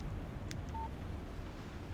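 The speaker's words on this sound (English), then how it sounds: "Text message from Barry." A short electronic text-message chime from a phone in the video game Alan Wake Remastered sounds once, soft and brief, over quiet background ambience.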